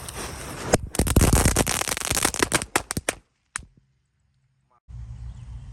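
Jumbo egg firecracker with a fuse, a mercon telur, set off outdoors: a dense rapid crackling burst of many sharp pops for about two seconds, a few scattered late cracks, then near silence and a low steady background hum.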